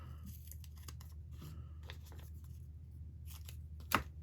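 Paper being cut with scissors during creative journaling, a few soft snips scattered over a steady low room hum, ending in one louder, sharper cut near the end.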